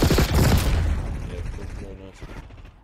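Point-blank shotgun blasts in Call of Duty, a loud burst of heavy gunfire at the start that trails off into a muffled rumble, with quieter game noise and faint talk underneath.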